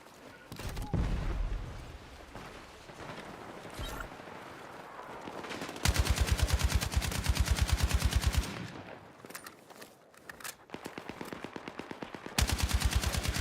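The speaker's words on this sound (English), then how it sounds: "Someone's shooting." Automatic gunfire from the shooter video game Battlefield 6 in battle royale, with loud rapid bursts of machine-gun fire rattling in long runs, interrupted by quieter stretches of distant shots and brief voice chatter.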